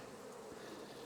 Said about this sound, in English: bees are real skittish